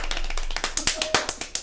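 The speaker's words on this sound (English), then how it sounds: "I got pretty capable after about a week at doing these claps" Rapid series of sharp hand claps, roughly a dozen quick strikes in an irregular fast rhythm, close and fairly loud, faster toward the end.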